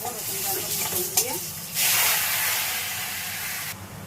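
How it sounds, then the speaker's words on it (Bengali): Prawns frying in hot oil, a close hissing sizzle with a few stirring scrapes early on, then a louder burst of spitting hiss that holds for about two seconds before dropping away. "এবার চিংড়িগুলোকে ভেজে নেবো"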